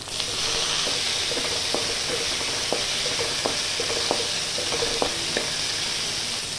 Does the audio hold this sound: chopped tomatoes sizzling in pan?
yes